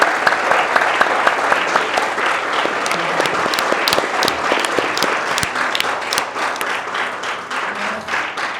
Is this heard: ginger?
no